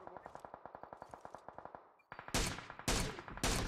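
Video game gunfire during a squad battle: a steady rapid string of automatic shots for about two seconds, then a brief pause followed by three heavy, loud booming blasts.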